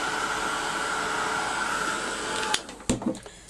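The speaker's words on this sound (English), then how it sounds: "I'm going to give that a quick blast with the heat gun to dry it." Heat gun blowing on paint to dry it, a loud, steady whooshing blast that cuts off partway through, followed by a few light knocks and handling sounds.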